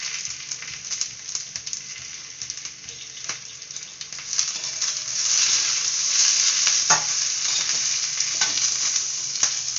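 Whole spices roast in a hot pan while being stirred, giving a continuous close sizzle with scraping strokes that grows a little louder midway, with no voices over it.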